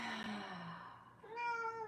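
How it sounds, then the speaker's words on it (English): A cat meows twice in close succession, a lower drawn-out call followed by a higher, brighter one, fairly near and clear with no talking. "look at the cat"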